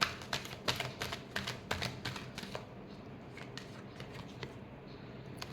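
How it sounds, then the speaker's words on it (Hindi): Tarot cards being shuffled by hand in a quiet room: a run of crisp, papery riffles and taps over the first few seconds, close and fairly soft, fading into faint rustling and low background hiss. "Last shuffle."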